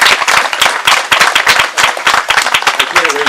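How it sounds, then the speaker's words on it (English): A crowd applauds steadily for an honoree at an outdoor event in the Greek Cultural Garden in Cleveland, with dense, continuous clapping that stays loud throughout. "So let's give a round of applause for Lou Frangos."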